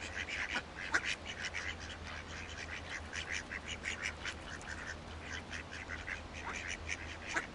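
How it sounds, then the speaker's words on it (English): Repeated nasal quacking calls, irregular and fairly close, with steady background noise and no talking. "that can't be a real duck noise."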